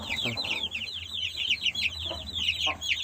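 Japanese chicks and chickens cluck and chirp continuously, a busy overlapping flock close by, with faint murmuring in the background.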